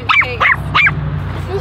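A dog gives three quick, close barks in a row, each sharp and evenly spaced, followed by a faint whimper.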